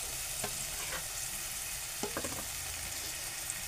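Onion and tomato sizzling in a hot pan, a steady close frying hiss broken by a few soft stirring scrapes, with no talking.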